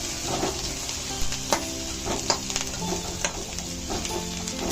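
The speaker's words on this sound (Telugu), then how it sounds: "దీన్ని బాగా సాట్ చేసుకొని" Fried chicken pieces cut small, sizzling and being stirred in a pan, with a steady frying hiss and repeated scraping clicks of the utensil against the metal throughout.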